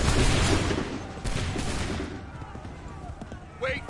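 Musket volleys in Assassin's Creed 3 crash out as a heavy burst of massed gunfire that fades into scattered shots, with shouted voices mixed in.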